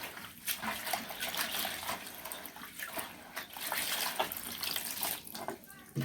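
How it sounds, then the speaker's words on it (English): Kudura, a dried leafy ingredient from South Sudanese cooking, is being washed in water, with close splashing, sloshing and trickling that rise and fall irregularly, and a voice speaks briefly over the water. "So now we're going to wash our Kudura very clean."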